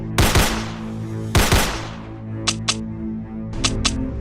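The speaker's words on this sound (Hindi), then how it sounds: "ज़ॉम्बीज को आता देख शॉन उनके ऊपर फायरिंग करने लगता है और गुल्ली भी फौरन अपनी बंदूक से ज़ॉम्बीज को मारने लगता है।" Animated guns fire at zombies: two loud, heavy blasts near the start, then two pairs of short, sharper shots later, over a low sustained musical drone.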